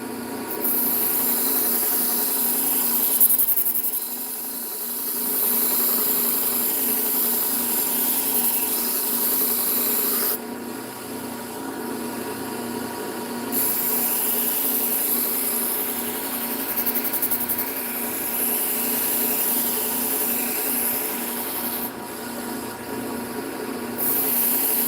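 A ceramic coated knife is held against a spinning sharpening wheel, giving a steady, continuous grinding hum with a bright abrasive hiss. The hiss drops out briefly in two short gaps as the blade lifts off, and no one talks.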